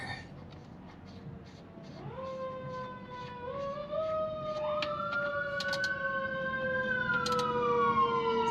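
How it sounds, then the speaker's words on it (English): Emergency vehicle sirens passing outdoors while someone works on a Jeep Cherokee suspension, several wailing tones rising and falling at a moderate distance and growing steadily louder. "don't mind the sirens"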